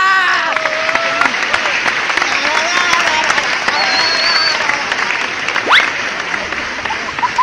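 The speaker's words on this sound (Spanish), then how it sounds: "Démosle un aplauso a Jorge." Outdoor applause for a performer at a riverside magic show, steady clapping mixed with crowd chatter and a brief whistle-like sound midway.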